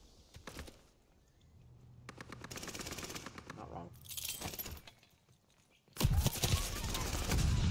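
Automatic gunfire with heavy recoil in a Call of Duty game, rapid bursts of shots separated by quieter gaps, with a loud dense burst near the end, fairly quiet overall.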